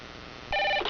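A telephone bell rings in a 1-800-GOT-JUNK radio ad, one short, loud, close burst that starts abruptly after a quiet lead-in and cuts off within half a second.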